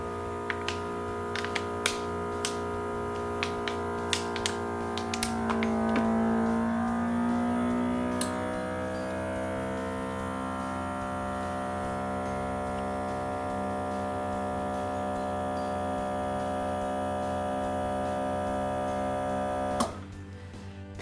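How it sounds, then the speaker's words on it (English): An ABOX vacuum sealer on its standard dry vacuum-and-seal setting runs with a steady electric hum and pump whine for about twenty seconds, with a few clicks near the start and a click as it finishes sealing the bag. "standard, dry, vacuum and seal"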